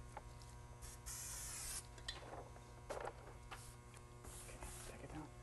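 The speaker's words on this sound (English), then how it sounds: "hit it with some pro spray to keep it in place" Adhesive pro spray hissing briefly onto transfer paper over a fleece throw blanket during dye sublimation printing, one short close burst over a steady mains hum, followed by faint rubbing and handling.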